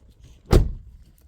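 A car's driver's-side central door lock actuates once, a single short sharp mechanical clunk close by, with no talk.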